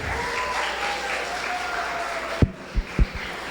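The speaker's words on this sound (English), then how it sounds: "Let's give them one more round of applause." Applause from an audience at a live youth competition, starting with a round of clapping that fades out and ends in a few scattered loud claps near the microphone.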